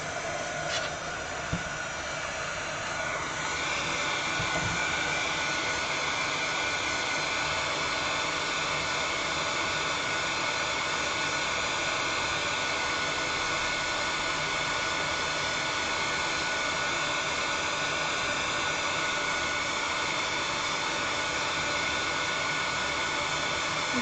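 A hair dryer runs steadily to dry an item, giving a loud, continuous blowing whoosh that holds unchanged for the whole stretch with no talk over it.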